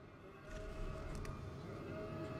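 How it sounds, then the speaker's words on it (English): A wailing siren in the World War II shooter game Sniper Elite 4, faint and steady behind quiet game ambience, with no speech. "Wonder if I can kill that siren because it's starting to get annoying"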